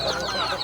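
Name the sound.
chickens clucking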